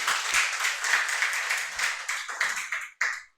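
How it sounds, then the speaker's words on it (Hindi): A seminar audience breaks into applause to welcome a guest, a dense wash of many hands clapping that thins into scattered claps and stops abruptly. "इनका जोरदार तालियां बजा"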